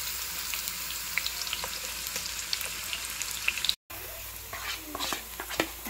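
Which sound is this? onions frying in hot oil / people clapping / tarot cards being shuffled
onions frying in hot oil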